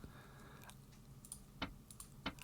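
Typing on a computer keyboard, sparse soft key clicks with a couple of sharper taps, quiet and close in a calm room.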